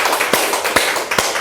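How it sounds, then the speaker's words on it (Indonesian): Audience clapping at an Indonesian gathering, heard as a few sharp, separate claps spaced roughly evenly over a brief moment, close and moderately loud. "Tepuk tangan."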